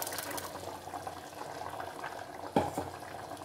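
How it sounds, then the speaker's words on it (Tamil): Potato kurma in a pot starting to boil, soft bubbling and simmering heard up close and quietly, with a brief knock or stir partway through. "குருமாவும் நல்லா கொதிக்க ஆரம்பிச்சிருச்சு."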